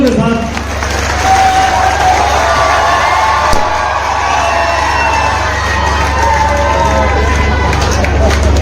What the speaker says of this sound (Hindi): साहब तशरीफ लाते हैं जोरदार तालियों के साथ।